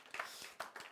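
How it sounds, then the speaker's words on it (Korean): A church congregation at Sunday worship claps to welcome visiting former members; the clapping is faint, with a few distinct claps in under a second. "우리 잠깐 일어나시면 박수로 제가 환영하도록 하겠습니다."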